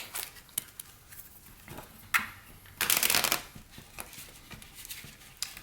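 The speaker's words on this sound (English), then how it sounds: "That was a terrible shuffle." Tarot cards are shuffled by hand in quick riffling bursts, with soft taps and slaps between, close and crisp, one longer shuffle in the middle.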